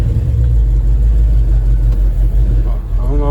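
A 1966 Chevrolet Caprice coupe with a column-shifted three-speed, its engine a loud, steady low rumble while driving, heard from inside the car with a voice briefly under it.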